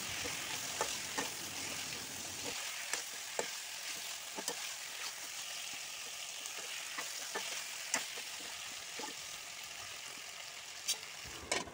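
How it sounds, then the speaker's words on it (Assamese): Broiler chicken meat frying in a pan, a continuous close sizzle with scattered sharp scrapes and clicks of stirring, no voices. "এইদৰে মই পোন্ধৰ বিছ মিনিটমান সময় ভাজি থাকিম"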